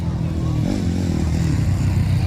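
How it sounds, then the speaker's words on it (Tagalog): A motocross motorcycle engine, about 150 cc, revs during a ladies' final race heat with triple humps, loud and close with a droning tone that rises and falls, while people talk over it. "Medyo malaki ang motor dito kay Grace"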